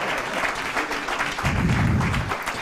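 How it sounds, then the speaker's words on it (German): An audience at an academic ceremony claps for several brave men walking to the front, a dense, steady wash of applause that swells into a fuller, heavier burst partway through. "auch die mutigen Herren bekommen bitte einen Applaus"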